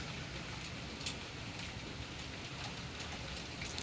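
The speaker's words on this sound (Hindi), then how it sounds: "खूब तेज बारिश हो रही है।" Heavy rain pours steadily on a school-day morning, a dense continuous hiss with scattered drop patter throughout, fairly quiet and unbroken, with no voices.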